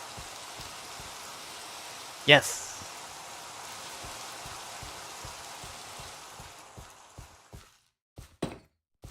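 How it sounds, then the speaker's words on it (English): Rainfall in the Minecraft video game, a steady hiss of rain that carries on for most of the moment and then drops away near the end. A single voice speaks briefly over it, with a few soft thuds toward the close. "And it's raining."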